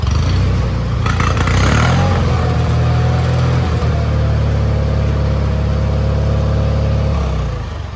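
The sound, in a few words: Onan engine running, about to run out of gas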